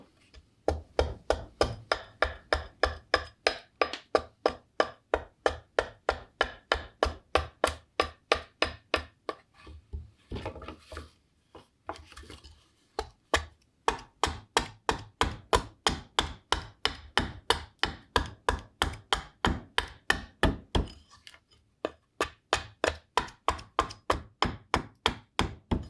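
A spoon knife carves out a green wood heart-shaped bowl, giving a steady run of sharp, close knocks and cuts that come in quick regular strokes, with a short pause and then the strokes resuming, no talking.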